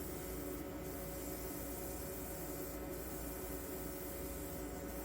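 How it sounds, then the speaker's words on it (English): Spray gun applying StewMac aged lacquer clear coat to a '79 EVH Bumblebee-style guitar body, a steady close hiss that runs without a break and never changes in level. "allow more paint coverage onto the body as I spray"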